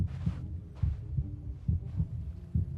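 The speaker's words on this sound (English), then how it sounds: "The heartbeat's getting faster." A video game heartbeat effect from Genshin Impact pulses in deep, booming double thumps, repeating about every second and gradually quickening, loud and alone.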